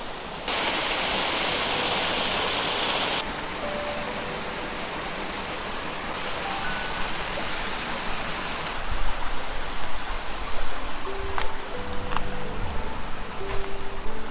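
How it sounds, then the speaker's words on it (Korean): Stream swollen after the previous day's rain in a village alleyway, a loud steady rush of flowing water that continues throughout, with faint background sounds. "어저께 비가 와서 그런지 물이 정말 많아요."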